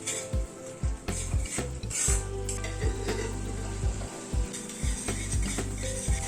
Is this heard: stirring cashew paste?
yes